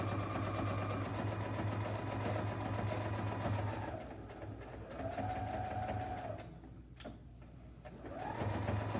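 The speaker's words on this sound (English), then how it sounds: "Do a little back stitching there at the end." A sewing machine back stitching runs in quick steady bursts of rapid mechanical ticking, pausing briefly between runs, close and moderately quiet with no talk.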